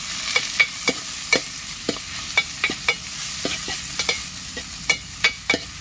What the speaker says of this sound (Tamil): கொஞ்சமாக கருவேப்பிலை, இடித்த பூண்டு கொஞ்சம், எல்லாத்தையும் ஒன்றா வதக்கிக்கலாம்.